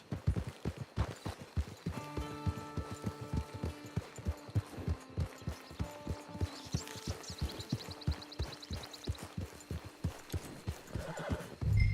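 Rapid hoofbeats clatter in a steady rhythm while a horse whinnies loudly over them in Red Dead Redemption 2 Online, with a faint game-like musical tone in the background.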